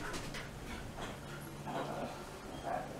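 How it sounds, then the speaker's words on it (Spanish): A dog gives soft yips and whimpers, faint and fairly distant, while a person talks over them. "Me interrumpe el perro."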